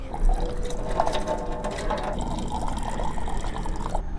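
Cold drinking water pours steadily for several seconds at a roadside stop on a motorcycle road trip between Hyderabad and Bangalore. The trickle and splash sound close and continuous, with no speech over it.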